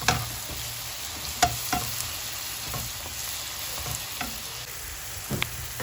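Chopped green bell pepper fries and is stirred in a pan for a stuffed-bread filling, a constant bright sizzle punctuated by occasional spatula taps and scrapes, close and fairly loud.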